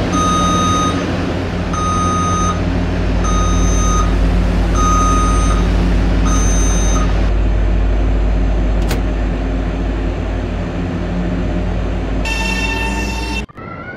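Train door chime repeating as a series of evenly spaced beeps over a loud steady rumble, followed by a low continuous hum as the train moves off and a brief sharp tone burst near the end.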